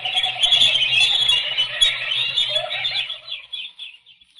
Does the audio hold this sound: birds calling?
yes